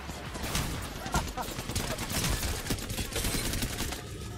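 Gunfire in the video game Apex Legends, rapid bursts of shots rattling almost nonstop, loud and close, mixed with busy game noise and only a little background chatter.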